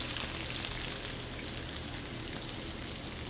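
Onions sizzling in a hot pan for taco filling, a steady dense crackle and hiss running evenly throughout at close range with no talking.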